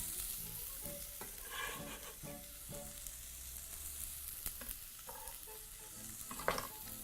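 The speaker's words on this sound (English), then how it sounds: "proceed to fry just up until you have your nice garlic pieces nice and golden in color" Garlic and white onion sizzle in hot oil in a pan, a continuous crackling fry interrupted by scraping stirs and clinks of a utensil, close up with no speech.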